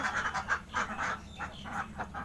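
A group of startled domestic ducks in a pen bedded with rice husks quacks in a quick, close, irregular series of overlapping calls.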